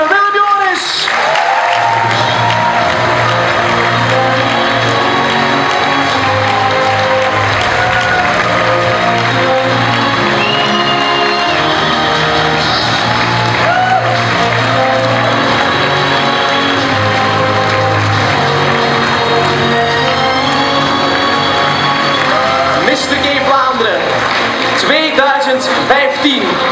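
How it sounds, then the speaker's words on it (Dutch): A crowd at the Mister Gay Vlaanderen 2015 winner announcement applauds and cheers warmly for Belgium's prime minister and the outgoing titleholder. The clapping and whoops are loud and sustained, with music playing underneath throughout. "Een warm applaus voor de premier van België, Charles Michel, en uitreder Mr. Gay Vlaanderen, Willem Joris."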